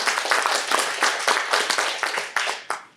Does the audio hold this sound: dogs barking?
no